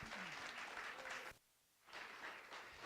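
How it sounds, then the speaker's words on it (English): Audience applause at a university pitch competition for students, a dense clapping wash that stops abruptly midway, leaving a brief near-silent gap, then swells back up again. "one more round of applause for all of the students that competed today."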